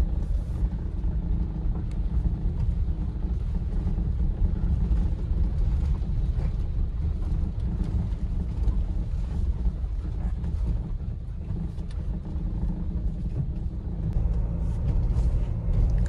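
Cabin noise inside a Mahindra Scorpio N SUV on a rough, broken road near a village bus stand in Otur: a heavy, continuous low rumble and buffeting, steady throughout with a slight dip midway.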